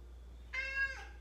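A single short, clear cat meow, close and bright, rising then falling in under half a second against quiet.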